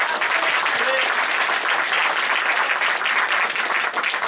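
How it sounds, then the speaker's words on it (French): An audience at a painting competition event applauds an employee being honored, a steady, full round of clapping from a sizable crowd, even in level throughout. "vous pouvez l'applaudir"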